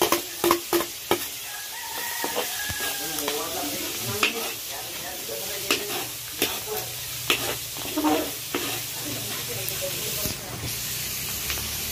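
Onion frying in a pan with garlic, hissing and sizzling steadily while a utensil scrapes and stirs in repeated sharp clacks. Faint background sounds run underneath.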